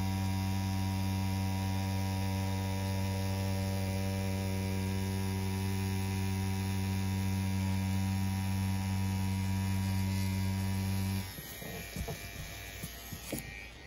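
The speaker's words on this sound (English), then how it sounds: "So overall, though, you can hear the machine and its performance." A CNC P6 rotary tattoo machine running during tattooing, a loud, steady electric hum with a constant buzzing tone that cuts off near the end, leaving faint handling noises.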